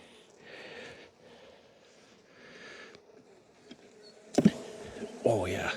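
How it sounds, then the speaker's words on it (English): Unhappy bees at a beehive drone in a low, wavering buzz that swells and fades, with sudden louder handling noises and rustles near the end. "Unhappy bees."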